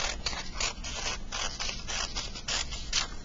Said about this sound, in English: Some scissors, cut it in half.